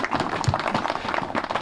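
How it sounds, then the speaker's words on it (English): An audience at an Honor 365 ceremony claps, giving a dense, steady round of applause from many hands throughout the short stretch. "How about another round of applause for Honor"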